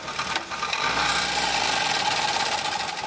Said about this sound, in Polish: silnik jeszcze nie jest dotarty i gaźnik też jest jaki jest